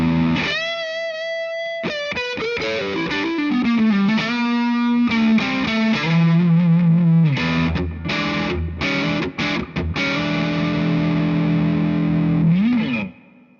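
Electric guitar played through a Fender MTG Tube Distortion pedal, ringing distorted chords and single-note lines with sustained notes, loud and close, no one talking.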